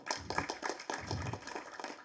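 An audience claps at a Tamil film's music and trailer launch event, a dense, steady patter of many hands lasting a couple of seconds, moderately loud.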